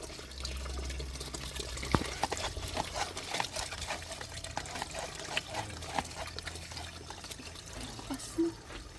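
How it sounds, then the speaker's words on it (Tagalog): Water from a hose splashes and trickles outdoors where pets are kept, a faint, steady liquid stream with a few soft knocks and brief distant sounds mixed in. "Nagamitan ng hose para diretso dumalo yung tubig."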